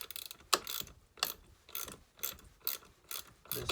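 A ratchet wrench clicks in short bursts while loosening tight bolts on a Homelite chainsaw, six or seven evenly spaced rounds of metallic ratcheting, close and fairly quiet.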